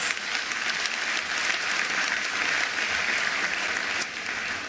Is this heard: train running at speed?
no